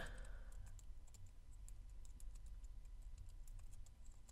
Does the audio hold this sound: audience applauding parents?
no